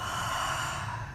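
A sharp, forceful exhale during a Pilates single leg stretch, a continuous breathy rush of air lasting about a second, close and steady with no talking.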